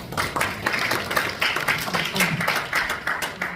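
An audience at a debate forum in a small National Assembly meeting room claps to welcome the next speaker, a dense, rhythmic patter of many hands, moderately loud and sustained throughout.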